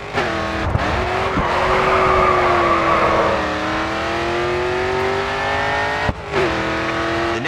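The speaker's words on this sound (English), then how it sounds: "Continue to turn and the back end will begin to slide out." A racing car drifts through a corner in the GRID 2 racing game, with a loud sustained engine drone and long, steady tire squeal under it, the pitch easing and dipping briefly near the end.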